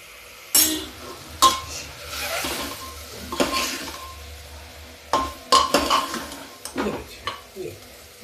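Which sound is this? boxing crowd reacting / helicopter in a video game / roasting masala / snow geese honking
roasting masala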